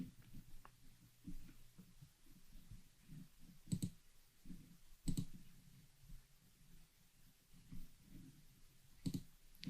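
A computer mouse clicks sharply a few times, separated by pauses, against a faint hum at a desk while Jira project settings are worked through.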